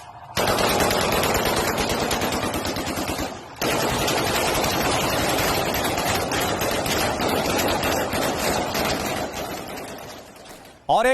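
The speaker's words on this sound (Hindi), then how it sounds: "हाथों में गन लिए हुए आसमान की तरफ फायरिंग करते हुए ये हयात के लड़ाके" Fighters in Aleppo firing guns into the sky in celebration, a loud, sustained burst of automatic gunfire with one brief pause, then continuous rattling shots close by.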